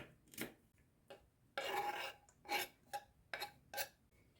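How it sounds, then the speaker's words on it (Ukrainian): Garlic being finely chopped with a knife, heard as a series of short, irregular scraping and tapping strokes on a cutting board, close but fairly quiet, with no talking. "Також сюди подрібню чесничок."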